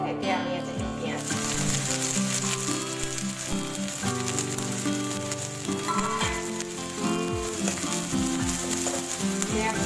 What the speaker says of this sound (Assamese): পিঁয়াজখিনি অকণমান ৰঙচুৱা হোৱা দিলে ভাজিম